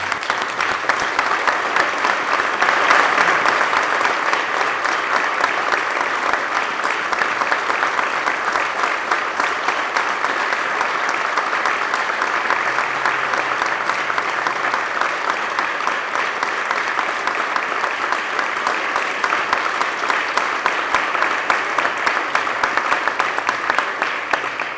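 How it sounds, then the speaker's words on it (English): Sustained applause from a large crowd in the New York State Senate chamber, loud and continuous with steady clapping that neither builds nor fades for the full length. "give one more resounding round of applause for our Korean War veterans"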